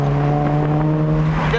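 The fuel-injected engine of a 1965 Mercedes-Benz 230SL Pagoda, a steady, loud hum with a strong tonal drone heard from inside the car as it drives along.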